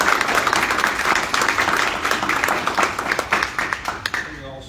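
Hand clapping at a public board meeting, a dense patter of many claps filling the room for several seconds and slowly thinning toward the end.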